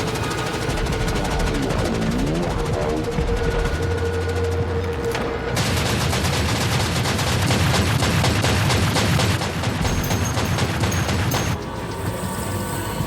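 An anti-aircraft gun servitor in a Warhammer 40K short film fires in a dense, continuous rattling fusillade. Booming, mechanical noise fills the whole stretch, with a brief break near the middle.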